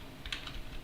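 A short burst of typing on a computer keyboard, a few quick close key clicks over a low room hum.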